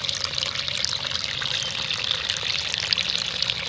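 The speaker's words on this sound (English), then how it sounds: "this is a little tiny waterfall" A little tiny waterfall splashes and trickles in a steady, unbroken hiss of running water, close and moderately loud with no pauses.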